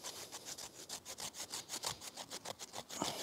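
Fine tinder is scraped up for fire-starting, a fast rhythmic rasping with about a dozen quick, even strokes, close and fairly quiet.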